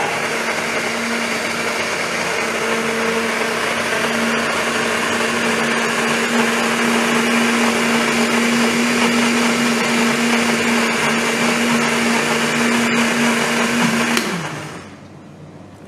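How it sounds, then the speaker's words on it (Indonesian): A countertop blender whirs steadily, blending banana with liquid milk for a banana brownie batter, a loud continuous motor drone that runs for about fourteen seconds before cutting off and winding down. "kita blender aja pisang sama susu cair sampai dia tercampur rata"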